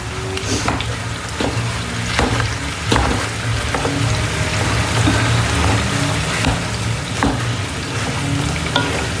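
A large batch of chopped meat fries for taco bowls in a pan, giving a steady, loud, close sizzle with scattered pops and crackles and no talk.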